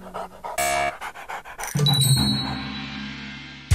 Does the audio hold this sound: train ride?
no